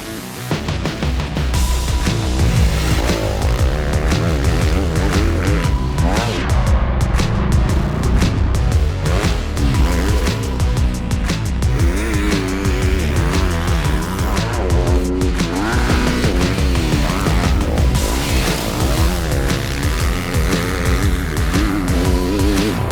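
A 2025 Honda CRF250R dirt bike roars loudly and continuously close by while being ridden, its engine pitch rising and falling with the throttle across the whole stretch.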